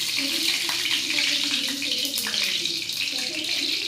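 Ridge gourd thecha frying in hot oil with mustard seeds and cumin, a steady close hiss and crackle of sizzling that runs unbroken throughout.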